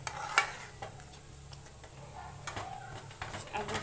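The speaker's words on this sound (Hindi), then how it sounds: "इसको हम लगातार चलाते रहेंगे जिससे ये कढ़ाई में ना पकड़े।" A thick besan milk cake mixture is stirred steadily in a kadhai, giving soft scraping and faint sizzling close by, with occasional light knocks of the spoon and bird calls in the background.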